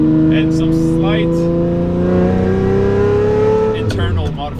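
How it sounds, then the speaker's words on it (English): A loud, throaty straight-piped Lamborghini exhaust, about 710 hp, roars and holds a steady high rev, with harmonic engine tones sustained before dropping off near the end. "as you can hear, straight pipe exhaust"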